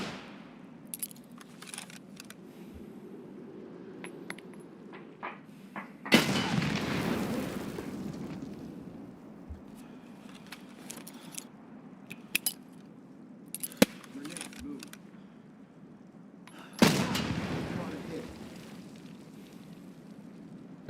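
Two grenade blasts in a first-person shooter game, each a sudden heavy boom with a rumbling tail, spaced about ten seconds apart, among scattered sharp gunshots and faint background noise.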